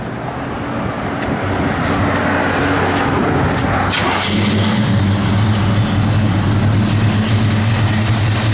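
Lopey idle from a 1969 GMC 1500 pickup with a mild cam, a steady low rumble close by, slightly deepening partway through, with no talking.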